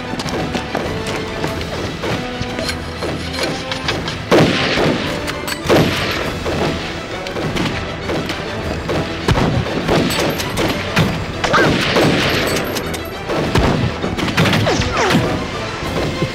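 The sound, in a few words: sniper rifle gunfire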